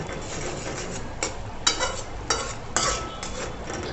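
Spices with a little salt stirred and fried in a pan with very little oil, a steady soft sizzle broken by several louder scraping stirs of a utensil against the pan, close by.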